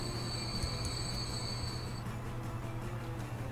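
A freight train in the rail-transport game Transport Fever rolls along with a steady low rumble and clatter of wheels, joined early on by a faint high squeal that fades out; no voices.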